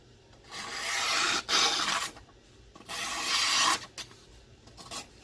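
A freshly whetstone-sharpened knife slices through paper in close, crisp rasping strokes: two long cuts and a few shorter ones, with brief pauses between them and no talking.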